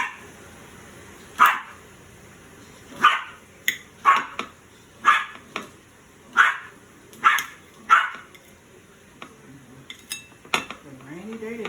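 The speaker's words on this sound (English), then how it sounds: "My little dog is acting up." A small dog barking indoors, a series of about eight sharp, fairly close yaps spaced a second or so apart, with faint clinking in the background.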